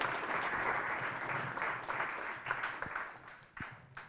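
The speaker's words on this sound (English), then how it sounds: "Give Shauna and LJ a round of applause." An audience applauds for two panel members at a charity event, a steady dense wash of clapping from a room full of people that slowly thins toward the end, with a few sharper claps standing out.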